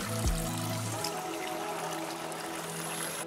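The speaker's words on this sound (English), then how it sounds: "I actually have to go to the spring and fill up" Mountain spring water filling a bottle on a White Mountains trail, a close, steady trickling pour with a short low gurgle near the start before it settles into an even flow.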